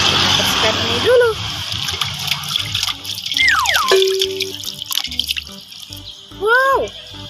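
Water splashes and drips as toy doctor kits, ice cream toys and pop-it toys are cleaned, close and moderately loud, with tonal toy sounds and speech throughout.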